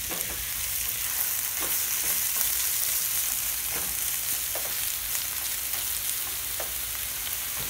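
Grated carrots simmering in milk for carrot halwa bubble and sizzle steadily in a pan, while a spoon stirs with soft, regularly spaced scraping strokes up close, and no one talks.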